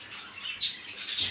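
Pet cockatiels and finches kept together in a room give faint, high chirps that come in scattered bursts, with no voices over them.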